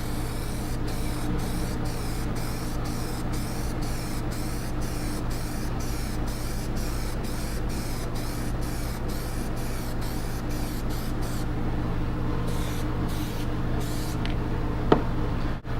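Black Plasti Dip sprayed on in a second coat, heard as bursts of aerosol hiss that start and stop in a regular rhythm over a low steady hum, close and fairly loud, then a few longer sprays near the end.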